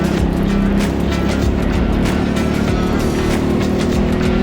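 Racing kart engine on a lap at TeamSport Leicester during a BIKC Middleweight regional final, a loud, continuous onboard drone with shifting pitch and fluttering pulses as the kart accelerates and brakes, no voices.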